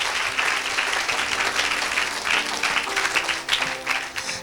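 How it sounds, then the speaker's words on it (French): A church audience at an evangelistic gathering applauds for Jesus Christ, dense continuous clapping that is loud and sustained from start to finish with faint crowd noise underneath. "Acclamez pour Jésus-Christ"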